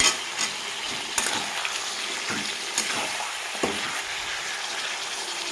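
Mutton frying in a pan for Bengali mutton kosha with green chillies, a constant crackling sizzle with repeated scrapes and knocks of a spatula being stirred through, close and steady, no speech.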